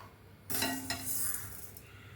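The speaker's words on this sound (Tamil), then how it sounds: "ஒரு கப்பு பாசிப்பருப்பு சேர்த்து லோ ஃப்ளேமில் மா வாசனை வர வரைக்கும் வறுத்துக்கலாங்க" Moong dal dry-roasting in a pan over a low flame makes a soft, brief scraping rustle of stirred grains, quiet and close, starting abruptly and fading over about a second and a half.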